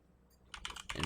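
Quick bursts of computer keyboard typing, close and crisp, begin after a short quiet pause and continue as a run of clustered keystrokes, with no voices.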